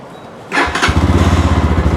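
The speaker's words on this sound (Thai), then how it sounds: "เดี๋ยวอันนี้ผมลองสตาร์ทให้ฟังเสียงเครื่องก่อนสตาร์ทนะครับ" A nearly new GPX Demon GR200 4V motorcycle engine cranks briefly and catches, then settles into a loud, close, steady idle with a rhythmic thumping pulse.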